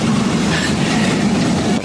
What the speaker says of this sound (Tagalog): parating yung tren